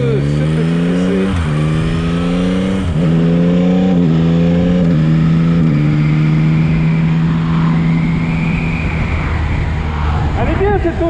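A 2022 Yamaha MT-09 motorcycle in A2-licence form being ridden, its engine climbing through repeated rising pitches between gear changes, loud and close, then settling with wind and road noise.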